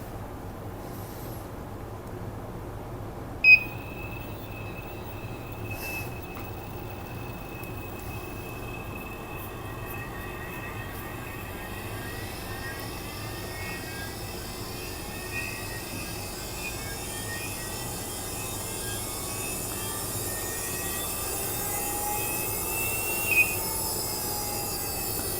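A lab centrifuge spins aphid samples with a steady low hum and a thin, high whine that shifts pitch. A sharp click comes early and another near the end.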